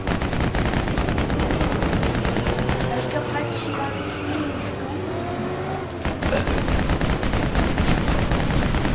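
Rapid bursts of gunfire from the Lego Batman 2: DC Super Heroes video game, dense and loud throughout, with a short lull in the middle before the shooting resumes.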